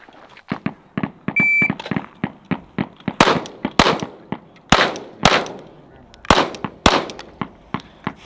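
A Langdon Tactical M9A4 pistol fires a string of sharp, loud reports at close range. Lighter snaps come first, then heavier cracking shots follow at an irregular, fairly quick pace.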